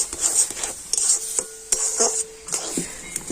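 Semolina dough being stirred in a pan for a milk-free danadar sweet, heard as repeated scraping strokes and soft clinks of a spoon against the metal, close and fairly loud, with no voices.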